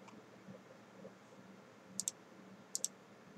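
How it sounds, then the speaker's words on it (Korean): Two pairs of crisp, quick clicks, a mouse scroll wheel ticking, stand out over a faint low hum, spaced under a second apart. "우린 여기서 마우스의 휠을 이용해서 위아래로 탐색을 할 수 있고요"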